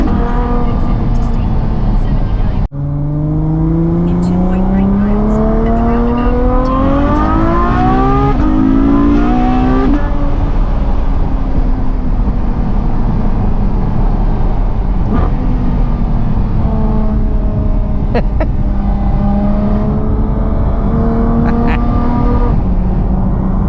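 A Ferrari F12's V12 engine climbs through rising revs in several loud, close pulls, then settles into a steady drone with further smaller blips as it keeps driving.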